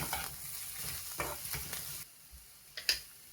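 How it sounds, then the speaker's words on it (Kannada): Beetroot palya fries in a pan while being stirred, giving a steady soft sizzle with scraping stir strokes, then quieter with a couple of brief clinks near the end. "ಎಲ್ಲ ಹಾಕ್ಕೊಂಡು ಸ್ವಲ್ಪ 1-2 ನಿಮಿಷ ತಿರುಗಿಸ್ಕೋಬೇಕಷ್ಟೇ"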